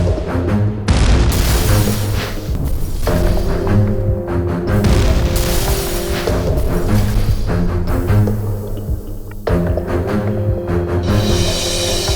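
Loud, sustained booming explosion blast in a TV drama scene, with rumbling low end and crashing layers over dramatic music, several heavy hits rolling through the whole stretch.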